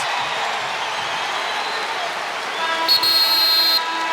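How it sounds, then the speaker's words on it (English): Arena crowd at a college wrestling match, Big Ten Penn State bout, cheering steadily as a broad roar, swelling briefly near the end with a sharp buzzer-like tone cutting through. "Crowd into this."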